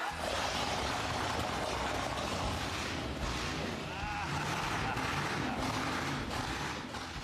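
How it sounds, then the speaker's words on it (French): A custom off-road post-apocalyptic vehicle's engine roars in a dense, continuous rumble, loud and close, with wind buffeting the microphone throughout. "J'ai entendu beaucoup de moteurs dans ma vie, mais le son de celui-ci correspond à mon véhicule post-apocalyptique."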